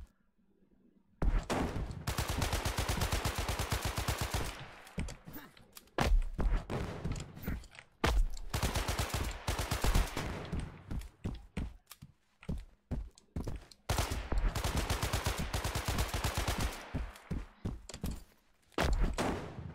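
Repeated bursts of gunfire from an enemy in a game jam video game, rapid rattling volleys coming in several loud bursts with short gaps between them, no talking over them.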